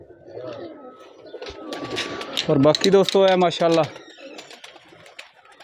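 Pigeons coo repeatedly in short, bubbling rolling phrases, close and fairly loud, the strongest burst in the middle, while someone talks over them.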